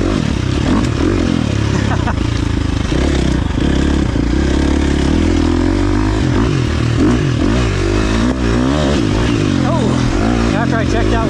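A 2023 KTM 350 XC-F dirt bike's engine drones and revs under held throttle while riding, loud and continuous, with a person talking over it throughout.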